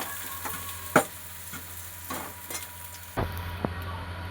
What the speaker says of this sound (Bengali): অল্প করে হলুদ দেব, দিয়ে এবার আলুটা ভাজা ভাজা করব।